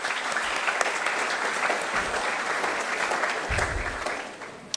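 Sustained audience applause at a school graduation ceremony, a dense steady wash of many hands clapping that holds loud throughout and tapers slightly near the end.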